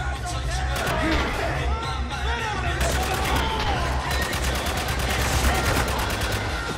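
Dense, continuous gunfire from the Spec Ops: The Line video game, with rapid automatic bursts and sharp repeated shots layered over battle noise and shouting voices throughout.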